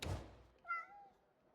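A cat in the video game Crimson Desert gives one short, clear meow right after a dull thump, fairly close and alone against quiet game ambience.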